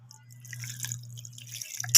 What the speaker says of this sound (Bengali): এখন আমি এখানে জল অ্যাড করে দিচ্ছি